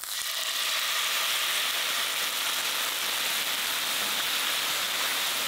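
Cabbage (chou feuille) cooks in a pan with a steady, dense sizzle that holds even and close throughout, with no voices.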